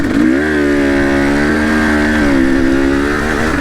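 Chinese Hengjian Z300 two-stroke motorcycle engine labouring up a steep hill climb in second gear, a loud, close, continuous buzzing drone that shifts pitch slightly as it pulls, with no talk over it.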